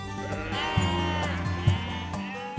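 A flock of ewes bleats at a sheep farm near Mont Saint-Michel before the annual shearing, with several overlapping sustained calls close by and no talk.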